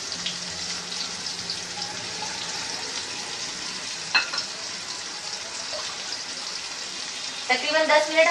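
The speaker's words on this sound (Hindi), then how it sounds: "सबसे पहले हम इसमें प्याज डाल देंगे और प्याज को ब्राउन कर लेंगे" Onions fry and brown in a pot with a continuous, even sizzle and hiss, close and steady, with a short stir or clatter near the end and a voice speaking over it.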